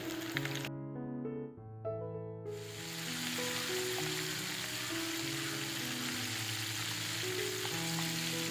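Spicy chicken pieces fry in hot oil for a party fried-chicken dish, a steady crackling sizzle that builds after a few seconds and continues under melodic background music.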